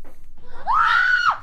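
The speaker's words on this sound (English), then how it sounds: "we're gonna need some different screams" A single drawn-out scream sound effect, high and tonal with a rising then falling pitch, lasting about a second, loud and alone after a faint murmuring background.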